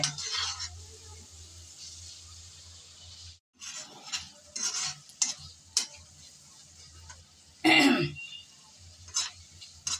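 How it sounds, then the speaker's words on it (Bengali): Tomatoes being stirred and sautéed in a pan for a pabda fish recipe: intermittent scraping stirs over a faint sizzle, with a brief cough-like burst partway through and no speech. "বেশ অনেকক্ষণ যাব আমি নেড়ে চেড়ে ভালোভাবে টমেটো কষিয়ে নিলাম"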